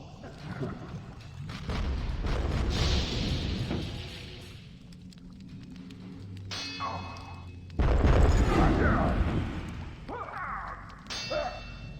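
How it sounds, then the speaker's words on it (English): Cannon fire and explosions in the Dungeon Keeper 2 video game, heavy booming thuds and crashes in loud bursts, with a big blast near the middle, layered under game noise. "Drop Knight gets shot at by all the cannons in the realm."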